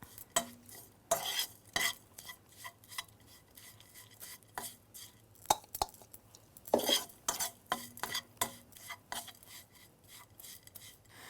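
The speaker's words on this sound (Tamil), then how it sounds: "இப்போ வந்து இதில் நம்ம போட்டுட்டு நல்லா மிக்ஸ் பண்ணிவிட்டு" Pirandai (veldt grape) powder being stirred and mixed in a bowl, with a steady run of close scraping and tapping strokes from a spoon against the container, no talking.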